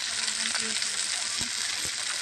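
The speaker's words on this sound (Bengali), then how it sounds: "দেখুন কি সুন্দর করে ভাজছি আমি, লাল লাল করে ভাজলাম।" Hilsa fish pieces frying in oil on a clay stove, a steady close hiss of sizzling with a few soft clinks and scrapes, no talking.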